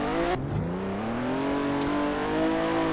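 A car in the Roblox game Mad City drives through a tunnel inside Area 51, its engine note climbing steadily as it accelerates, loud and close with a continuous whir and no speech.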